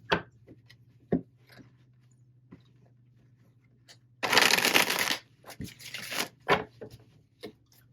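Tarot cards are shuffled close up in a quick, dense riffle lasting about a second, followed by a few lighter card slaps and taps. Scattered soft handling clicks surround it in an otherwise quiet room.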